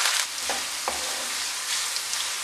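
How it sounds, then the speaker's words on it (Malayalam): Garlic and curry leaves frying in hot oil for a Kerala-style fish pickle, a steady close sizzle with a couple of soft stirring knocks and no talking. "വെളുത്തുള്ളി ഒന്ന് ചെറുതായി മൂത്തിട്ടുണ്ട്. അതിൻ്റെ കൂടെ തന്നെ നമുക്ക് കറിവേപ്പില ചേർത്ത് കൊടുക്കാം."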